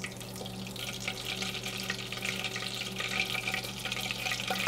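Butter simmering in a pot as its whey browns and toasts, giving a steady, close bubbling sizzle with faint crackles that builds slightly in intensity, with no talking over it.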